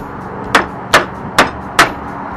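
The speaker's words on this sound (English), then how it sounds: "Step 3, hammer out nails." A hammer strikes a wooden pallet four times in an even rhythm while knocking nails out, each blow sharp and close, with no voices.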